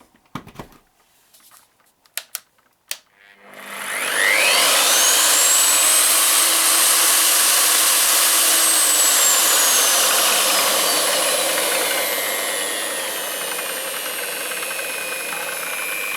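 A Bihui concrete grinder fitted with a 180 mm cutter starts up after a few faint clicks, ramping smoothly into a loud, steady high-pitched motor whine that holds, then settles slightly lower as it keeps running alone.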